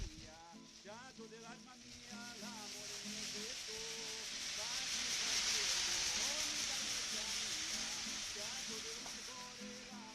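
Vinegar sizzles and steams in a pan of browned rabbit pieces for hunter-style rabbit, a steady bright hiss that swells in the middle while someone talks over it.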